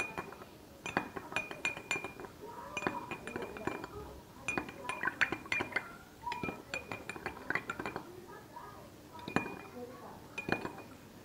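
A metal spoon stirs sugar into cold water in a glass, clinking repeatedly against the sides in quick irregular bursts, close and clear, with soft speech faintly underneath.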